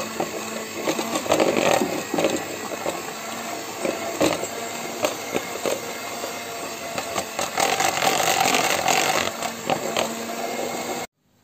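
An electric mixer whips chocolate cream made with cocoa, meant for decorating a Kiev cake. It makes a continuous, loud, close whirring and buzzing that shifts slightly in intensity, then cuts off at the end.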